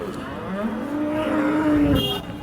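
A Holstein Friesian cow at the Sangola cattle market gives one long, loud, close moo that rises and falls before fading into market background noise.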